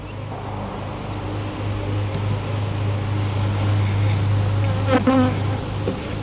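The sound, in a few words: honey bees buzzing around an open beehive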